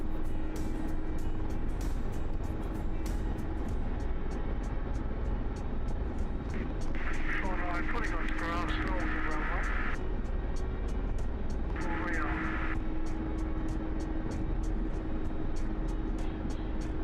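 A military jet taxiing in the DCS World flight simulator, a steady engine whine and hum running throughout at constant loudness, with brief higher-pitched tonal bursts rising over it partway through.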